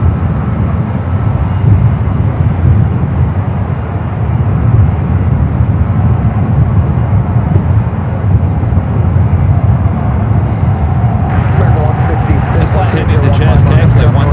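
Steady, loud airplane engine roar from jets departing runway 28 at San Francisco airport, a continuous rumble with a rising whine late on.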